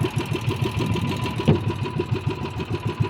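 Small engine idling at low revs in a steady, rapid chugging rhythm, close by and fairly even, while it runs smoothly at idle but misfires when revved.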